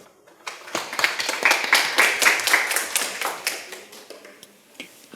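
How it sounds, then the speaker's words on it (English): An audience claps to welcome a speaker at a science talk, the individual hand claps distinct at first, then swelling into fuller applause in the middle and thinning out toward the end. "Let's receive him with a round of applause."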